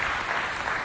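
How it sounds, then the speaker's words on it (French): A short burst of audience applause at a poetry event, dense and even, with a faint voice underneath. "On l'applaudit bien fort, s'il vous plaît."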